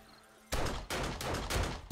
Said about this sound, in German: ich schieße hier jetzt halt auch viel mit